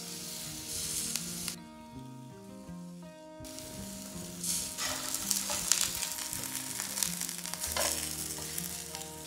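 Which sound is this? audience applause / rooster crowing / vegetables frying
vegetables frying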